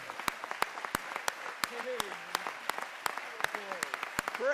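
A church congregation claps in scattered, uneven bursts, with sharp individual claps standing out over a steady murmur, while voices talk and call out over the applause.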